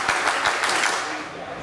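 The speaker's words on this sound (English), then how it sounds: "you just witnessed the Sockeye clap" Ultimate frisbee players performing the Sockeye clap after a point in a women's showcase game, a burst of clapping with a few sharp rhythmic claps standing out over crowd noise and background voices.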